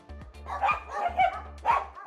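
Several dogs bark in quick, close, loud bursts with whimpering yips at an animal shelter in Krakow, three barks clustered over a couple of seconds.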